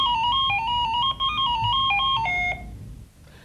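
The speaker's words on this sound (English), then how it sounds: "The latest is this toy phone, which the department wants stores to withdraw voluntarily because it could deafen a child." A toy phone ringing loudly, in a news report on a dangerous toy that could deafen a child: a shrill electronic melody of stepped beeping tones repeating for about two and a half seconds, then stopping.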